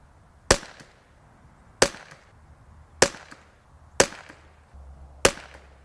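Tikka T1X MTR .22LR rifle firing five shots at a range, sharp single cracks spaced about a second apart, each with a short decay, close and alone.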